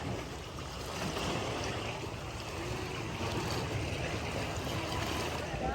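Speedboat running fast over open sea near Phuket, with steady loud rushing of water, spray and wind noise throughout and no voices.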